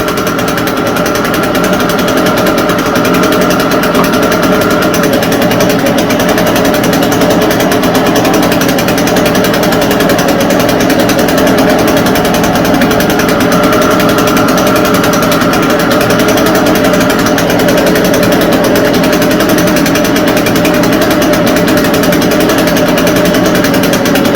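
An Echo TB580T small gas engine runs, a loud, close, steady high-pitched buzzing drone that holds an even level throughout, with no talking over it.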